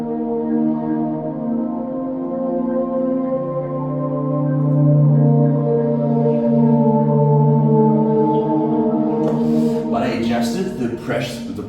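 A synthesizer preset played on an Expressive E keyboard, steady sustained chords humming warmly for several seconds before brighter breathy swells and bursts enter near the end, fairly loud and alone.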